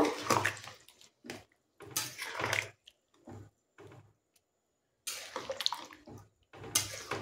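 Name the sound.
hot water poured into cooking mutton curry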